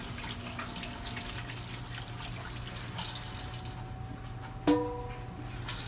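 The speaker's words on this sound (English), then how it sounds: "You first have to wash your hands before you grab the meat" Running tap water splashes steadily into a kitchen sink as hands are washed before handling meat, a moderate continuous flow with a sharp clink near the end.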